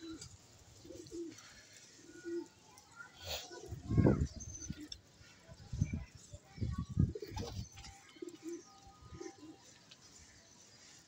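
Pigeons being flown for a pigeon-fight contest, giving soft intermittent coos and wing flutters with a few louder bursts, while people talk and move nearby throughout.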